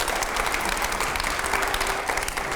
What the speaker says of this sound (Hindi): पहले जोरदार तालियां हो सवाल के लिए।